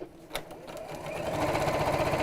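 A straight stitch sewing machine running at over 1,000 stitches a minute, starting with a few clicks then speeding into a rapid, steady, close mechanical whir of stitching.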